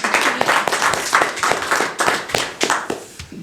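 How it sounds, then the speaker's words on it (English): A small group applauds close by, individual hand claps crisp and uneven over a few seconds before tapering off. "That deserves applause."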